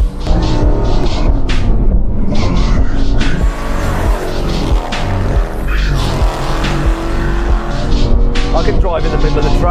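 Dodge Charger and Dodge Ram drag racing down a quarter-mile strip, loud roaring engines and tire noise filling the whole stretch, with voices talking over the steady mechanical din.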